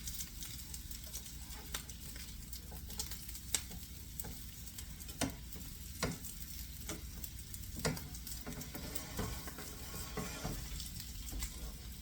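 Bacon frying in a pan, a continuous soft crackle and spit with scattered sharper pops, close and quiet throughout with no voices.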